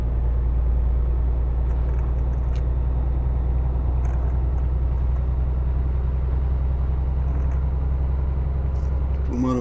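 A Setra 517 HDH coach in Euro Truck Simulator 2 drones along with a steady, deep engine hum and a low rumble, with faint clicks and a short tone near the end.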